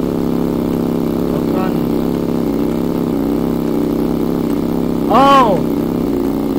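A motor vehicle idles steadily for a pizza delivery run in Roblox Bloxburg, a continuous low engine hum throughout, with a brief voice breaking in near the end.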